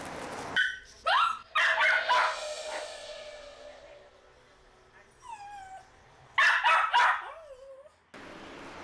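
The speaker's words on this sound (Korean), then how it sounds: "어머니가 떠나자 문 쪽을 바라보며 짖기 시작하는 녀석." Small dog left alone in an empty shop barks toward the door after its owner leaves, sharp bursts and yelps in separate clusters separated by quieter whimpering gaps, close and fairly loud.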